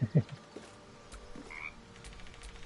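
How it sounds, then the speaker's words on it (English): A frog croaks in a Baldur's Gate 3 game scene, a few short low croaks near the start followed by quieter scattered calls over a faint ambient background. "Why is there a frog down there going rabbit,"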